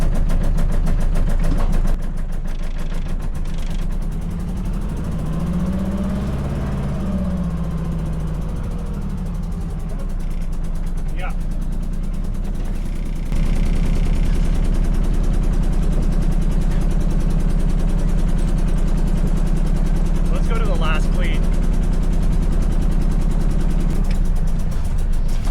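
A boat's engine idles in reverse while docking at a marina, a steady low drone that runs throughout and steps up slightly in level partway through, with faint knocks and creaks over it and no talking.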